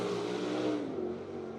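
A dirt track race car laps BAPS Motor Speedway in York Haven, Pennsylvania, its engine a steady droning roar at mid distance that fades slightly as it moves away, with no talking.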